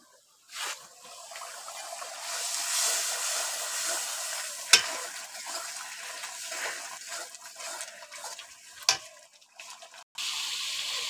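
Spice paste with ginger and garlic sautés in a pan for chicken with lentils, giving a soft steady sizzle with occasional spatula scrapes and two sharp knocks.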